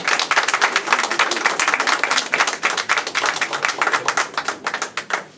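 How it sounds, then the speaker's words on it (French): Performers at the Cap sur les Arts arts festival in Perros-Guirec clap for the audience, a lively, close burst of applause with distinct individual hand claps that thins slightly toward the end. "j'avais demandé à l'instant aux artistes d'applaudir le public"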